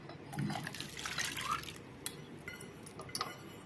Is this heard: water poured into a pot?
yes